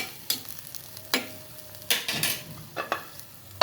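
A spoon stirs snakehead fish curry with vegetable stems and potatoes in a pan, giving several separate scraping strokes over a faint sizzle, close and without talking.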